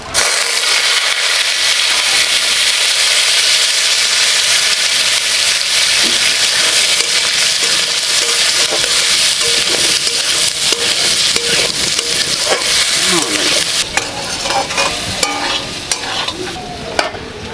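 Potatoes frying in hot oil with panch phoron for stuffed chili chops, a loud continuous sizzle close up, with scraping stir strokes of a spatula becoming more distinct in the later seconds.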